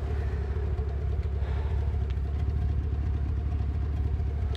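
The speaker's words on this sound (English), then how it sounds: "we have that nice exhaust here in the back so people will hear you coming." A Chevrolet Camaro SS idles with a steady, low exhaust rumble from the rear, a continuous deep drone at moderate level with no voices over it.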